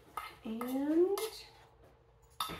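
A utensil folds crumbled feta into a cornbread-style batter in a bowl, giving a few light clinks and scrapes, with a brief rising squeak-like tone in the middle.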